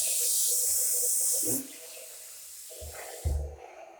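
Running tap water splashes loudly at a sink as something is washed by hand, the steady flow stopping after about a second and a half, followed by a few brief clunks and splashes.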